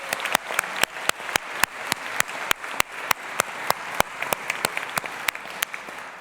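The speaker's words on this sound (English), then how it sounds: "So let's give them a big, big thank you with the biggest round of cheer." Applause at a graduation ceremony, steady clapping from an audience, with sharp louder individual claps standing out over a dense wash of hands, continuous throughout.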